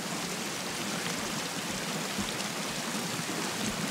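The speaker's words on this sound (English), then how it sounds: "Underneath the fresh water waterfall there" Waterfall in the video game Sons of the Forest, a fresh water fall near a lakeside village, giving a steady, even rush of falling water with no breaks and no voices.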